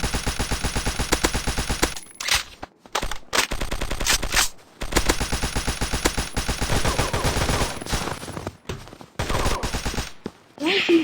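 Dense automatic gunfire from a shooting video game, long rapid bursts broken by short pauses, loud and close throughout, with a voice talking faintly in places.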